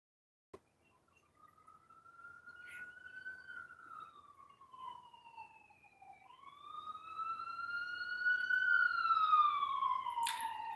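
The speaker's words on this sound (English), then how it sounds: "I know you heard them sirens." Police-style siren outside, distant and faint, wailing slowly up and down and gradually growing louder over about ten seconds, with no talk over it.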